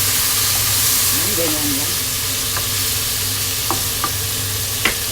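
Soy sauce hitting a hot pan of crabs and scallops, a loud steady sizzle and hiss with a few small pops and clinks, while a voice speaks briefly near the start.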